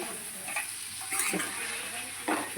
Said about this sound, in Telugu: దొండకాయ ఫ్రై అయితే రెడీ అయిపోయిందండి